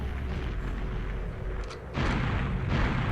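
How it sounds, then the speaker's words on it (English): A heavy metal panel crashes down in the GoldenEye 007 shooter, a deep rumbling boom that swells suddenly partway through over a dense, noisy game background. "You can hear the panel falling."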